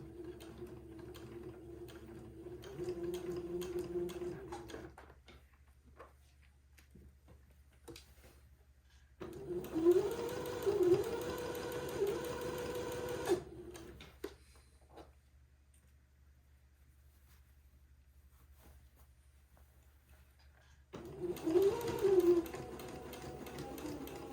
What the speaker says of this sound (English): I'm going to sew this entredeux to the sleeve, just sewing to the right of the entredeux ladder, taking my pins out as I come to them.